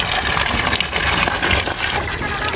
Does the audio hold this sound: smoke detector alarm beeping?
no